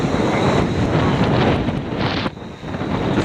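Strong gusting wind roars across an outdoor microphone as a drone takes off, a loud, steady broadband rumble that briefly dips near the end before surging again; no talking.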